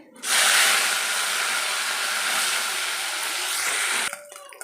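Fish drops into hot oil with a sudden loud, close, broadband frying hiss that holds steadily for about four seconds, then cuts off abruptly.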